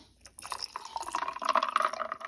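Cream mixture poured into a glass for iced coffee, a close, steady trickling pour with small splashes and drips, heard alone.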